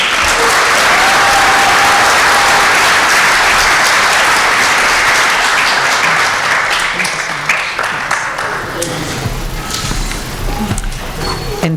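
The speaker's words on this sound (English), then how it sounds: "One more round of applause for our scholarship winners." Loud, sustained applause from a large graduation and awards ceremony crowd for scholarship winners, dense clapping filling the whole stretch and thinning slightly toward the end.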